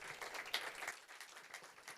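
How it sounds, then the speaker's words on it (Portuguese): Church congregation applauding the Lord after a prayer, a diffuse patter of many hands at moderate distance, fairly faint and steady throughout. "Aplauda ao Senhor, irmãos."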